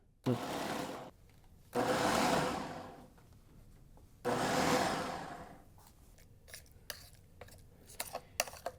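A food processor chopping chickpeas whirs in three short pulses separated by pauses, followed by scattered clicks and scraping.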